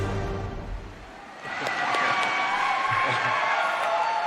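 A crowd cheers and shouts at an opening ceremony, the roar swelling after a quieter start and holding loud and steady, with a few whoops rising above it.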